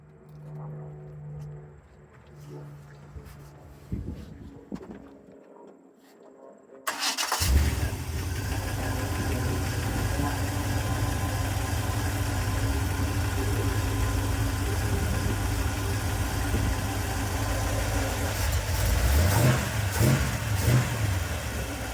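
After a quiet stretch, a 1940 Chevrolet Master Deluxe hot rod with a 350 V8 and Flowmaster exhaust cranks and roars to life, then settles into a loud, steady rumble with a few throttle blips near the end.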